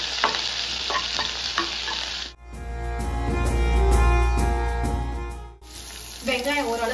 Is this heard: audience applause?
no